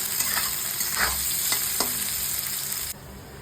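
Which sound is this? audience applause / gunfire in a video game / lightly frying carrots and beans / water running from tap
lightly frying carrots and beans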